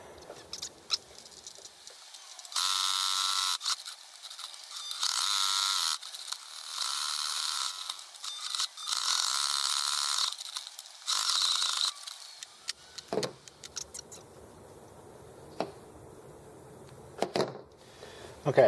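A sewing machine stitches a long zigzag triple stitch on a placemat, running in several buzzing bursts of a few seconds each, separated by pauses and then shorter, choppier runs.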